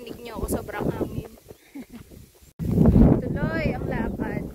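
Strong wind roars and buffets the microphone on the summit of Mt. Kapigpiglatan in San Narciso, Zambales, in gusty low rumbles beneath a person talking.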